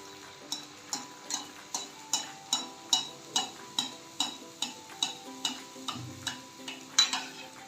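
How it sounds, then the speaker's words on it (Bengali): Pea-stuffed kachoris fry in a pan of oil under a soft, low sizzle, while regular sharp clinks or taps of a utensil repeat about twice a second through the whole stretch. "কচুরিগুলো খুব সুন্দর ফুলে উঠেছে এরকমভাবে আমি পরপর সবগুলো ভেজে নিচ্ছি"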